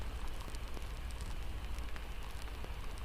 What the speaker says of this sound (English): Outside, the rain deepens into a steady murmur, not louder, but richer, like a lullaby made of water